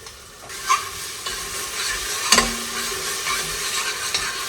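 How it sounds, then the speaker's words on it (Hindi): Masala frying in a pan while being stirred, a steady sizzle broken by a few scraping spoon strokes, close and moderately loud, with no talking. "बस थोड़ा सा मसाला अच्छी तरह मैं भून लूँ"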